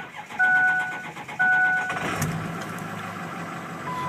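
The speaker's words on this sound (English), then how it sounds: "This is a PowerStroke diesel." A 2005 Ford F-250 King Ranch 4x4 with a PowerStroke diesel: two short warning chimes sound, then the engine cranks and catches, settling into a steady, moderately loud idle.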